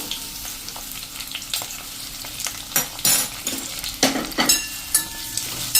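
Sliced onion and capsicum sauté lightly in hot oil, a steady crackling sizzle with several louder stirring scrapes and clatters of a spoon through the pan, close and without talk.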